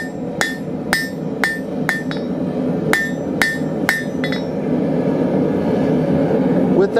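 Hammer blows on hot steel at an anvil while drawing out a bar, about eight sharp ringing strikes in irregular pairs and clusters over a steady background rumble, then the striking stops and the hum continues.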